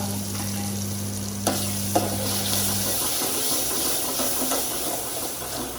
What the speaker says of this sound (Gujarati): અને હવે આપણે આપણા વઘારને એકદમ સારી રીતે હલાવી લઈએ